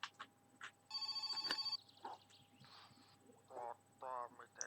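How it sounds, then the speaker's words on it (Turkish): An in-game telephone rings in My Summer Car: one burst of steady electronic ringing lasting under a second, with scattered game noises and occasional talk around it. "Aha telefon çalıyor."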